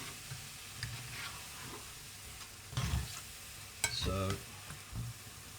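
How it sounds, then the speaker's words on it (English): Chimichanga sauce with kidney beans simmers in a pan, giving a low steady bubbling sizzle broken by a few louder stirring scrapes near the end, with one brief spoken word. "drop the temperature down on that a little bit and just let that simmer away for 5 or 10 minutes"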